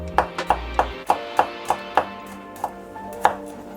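A knife slices garlic cloves finely on a cutting board, about ten crisp, evenly spaced taps heard up close, with no talking.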